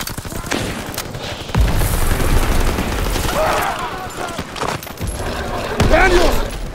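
Battle gunfire in Call of Duty: WWII, dense bursts and booms of rifle and machine-gun fire rolling continuously with shouted voices mixed in.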